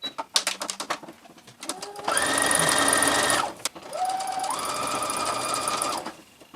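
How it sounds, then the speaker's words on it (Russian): A sewing machine basts a blouse-and-skirt seam with long stitches, running in two sustained bursts separated by a brief pause, preceded by light handling clicks; close and fairly loud, no talking. "Я буду сметывать на машинке крупным стежком"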